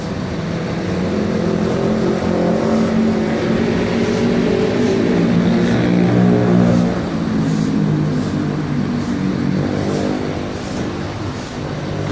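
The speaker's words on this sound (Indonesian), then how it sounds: "Siap-siap akan diberangkatkan bis ANS lagi." A new ANS intercity coach bound for Padang, West Sumatra, pulls away with a steady, loud engine drone and low rumble that holds throughout, swelling slightly midway as it accelerates, with no talk over it.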